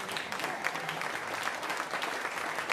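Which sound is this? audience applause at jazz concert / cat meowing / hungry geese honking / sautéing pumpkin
audience applause at jazz concert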